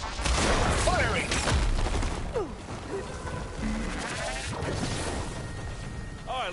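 Supporting gunfire in the Horizon Forbidden West video game: rapid volleys of shots and impacts mixed with bleating creature cries and chaotic battle noise.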